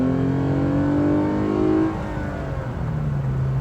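2015 Lexus RC 350 F Sport accelerating from the cabin, a strong engine note climbing in pitch, then easing off as a gear changes, with steady road roar underneath.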